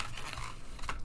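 Scissors cutting out pieces of paper, a steady close crunching and snipping across the short stretch with a brighter cut near the end.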